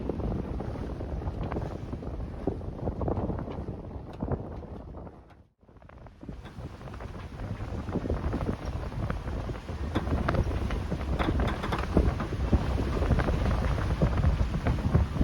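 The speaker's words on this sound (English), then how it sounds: "So the wind is definitely starting to pick up now." Strong wind roars and buffets against the microphone aboard a sailing boat crossing the strait between Koh Phangan and Koh Samui in Thailand, a continuous loud rushing broken by one brief lull before it builds again.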